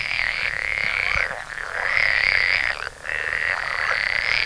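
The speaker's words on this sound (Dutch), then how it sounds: "Want er zitten hier natuurlijk honderden kikkers in." Hundreds of frogs croak together at a pond, forming a dense, continuous chorus of high, buzzing calls that briefly dips twice before swelling back up, steady and fairly close.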